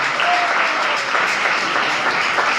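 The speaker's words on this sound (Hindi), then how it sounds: "कौन जोरदार तालियां देंगे प्रभु के लिए?" A church congregation applauding loudly for the Lord during a Friday service, dense continuous clapping from many hands filling the whole moment, close and without talk.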